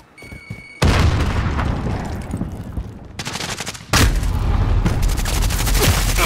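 Video game firefight with loud booming blasts and bursts of rapid gunfire, a sudden heavy explosion midway followed by continued dense shooting, close and loud, no talk.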